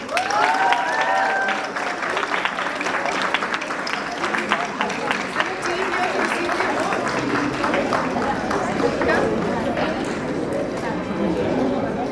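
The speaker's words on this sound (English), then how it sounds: "Could we please keep the applause going?" Sustained audience applause at a school awards ceremony after the Tech Disrupt grades 9 to 12 winner is named, a dense continuous wash of clapping with crowd murmur and speech over it throughout.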